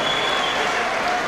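A Coventry boxing crowd claps and cheers loudly after a super middleweight's professional debut win, a brief dense burst of applause with no pauses.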